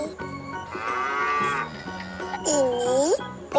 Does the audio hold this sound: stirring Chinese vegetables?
no